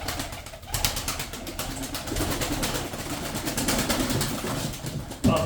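Tumbler pigeons cooing in a loft, a flock of close, overlapping throaty coos and soft warbles running continuously with faint rustling.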